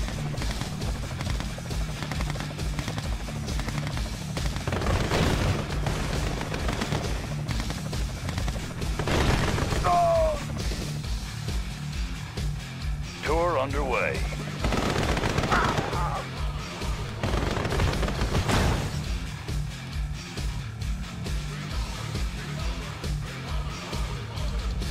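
Continuous gunfire and booming explosions from a Red Alert 2 battle keep a dense, steady barrage going throughout, with voices breaking in over it several times.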